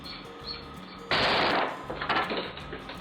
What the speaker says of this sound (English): When he was loosening the bolt joint exploded.